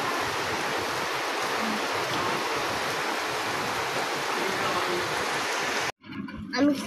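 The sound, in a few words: rain behind the house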